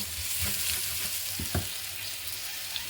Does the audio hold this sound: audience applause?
no